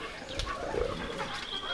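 A pigeon coos softly in a short low murmur, faint and close, over steady background noise with no talking.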